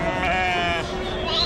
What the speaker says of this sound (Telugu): 113 గొర్రెలు ఉన్నాయి.